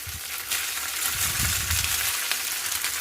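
Boiled rice dropped into sizzling dal fry in a pan: a steady hiss of frying with a brief soft thud and low churning as the rice lands, heard close and alone.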